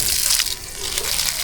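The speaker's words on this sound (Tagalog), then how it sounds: "Diligan na ito ron. Patubigan na ito." Water pours onto a jackfruit tree in a steady, close splashing gush that dips briefly before resuming, with faint talk beneath.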